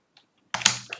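Short burst of typing on a computer keyboard after a near-silent start, a quick cluster of close keystrokes about half a second long.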